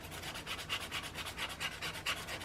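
A flat tool scrapes seeped glue off paper in a quick series of short, dry rasping strokes, close and fairly quiet, with no voices.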